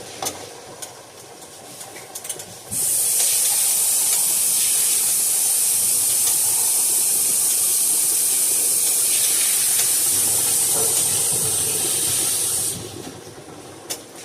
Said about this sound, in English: I'm going in with the tomatoes first.